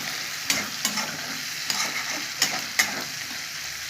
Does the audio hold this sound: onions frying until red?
yes